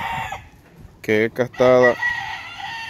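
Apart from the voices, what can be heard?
rooster crowing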